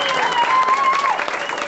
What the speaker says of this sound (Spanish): Otro aplauso también con ganas para el estado de Hidalgo